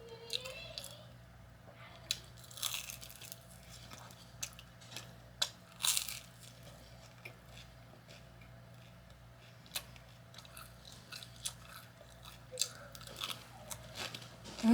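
Crunchy chewing of a kale and cauliflower salad with carrot, radicchio and dried cranberries, heard as soft, close, irregular bites and crunches at low level in a quiet room.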